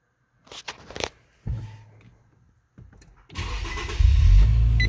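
Infiniti Q50 fitted with a new fuel pump cranks and starts, a loud rumbling engine catch near the end after a few quieter cabin clunks and rustles.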